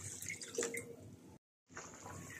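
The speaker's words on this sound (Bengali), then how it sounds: "জলটা দিয়ে দিচ্ছি" Water is poured into a pan of cauliflower pieces coated in spiced masala, a faint, steady splashing pour that cuts out briefly and then resumes.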